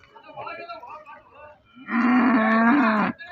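Bulls at the Ginnigera cattle market in Karnataka give a long, loud, sustained low from close by after a softer, broken bellow, with no talking.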